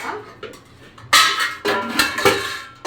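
Dishes, pots and pans clatter nearby in a series of loud, irregular metallic knocks and scrapes, with a few sharper impacts and no talking.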